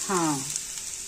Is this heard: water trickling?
no